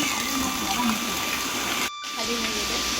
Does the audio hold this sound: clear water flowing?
yes